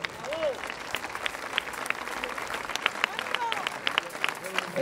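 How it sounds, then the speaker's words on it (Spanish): An outdoor crowd at a town festival applauds a horse-and-rider exhibition in a castle moat, with scattered, moderately distant clapping running throughout, overlaid by whistles and a voice speaking. "Vamos a darle un fuerte aplauso."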